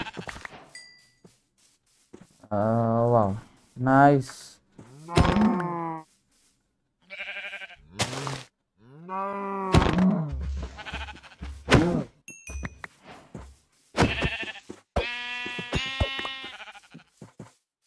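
Goats bleat repeatedly in Minecraft, a string of wavering, nasal calls spaced with short gaps and close to the mic, while someone talks briefly between them.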